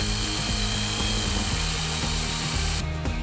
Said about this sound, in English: We just got done drilling the hole in the rear end here, 1/2 inch hole with the hand drill.